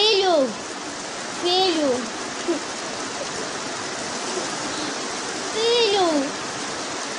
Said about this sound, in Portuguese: Essa chuva tá muito forte!